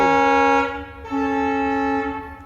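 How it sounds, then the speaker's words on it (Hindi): A train sounds its horn at a railway station: two loud, close, sustained tonal blasts, the first longer and dipping before a brief break, the second holding steady, with no talking over them. "अभी मैं गाइस स्टेशन पे हूँ, तो ये ट्रेन जो है ये हॉर्न ब्लो कर रही है अभी"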